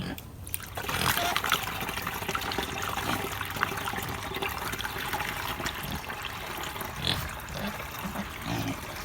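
Water pouring and sloshing steadily for several seconds as it is mixed with rabbit urine, a continuous splashing trickle with faint background noise.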